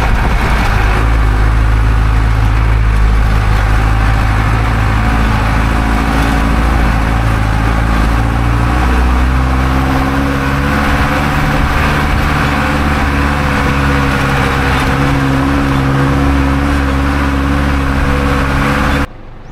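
Jeep engine rumbling steadily while driving toward the jump-off area for Aw Asen Falls in Ilocos Sur, a loud, continuous low drone with a slight shift in pitch midway and no talking.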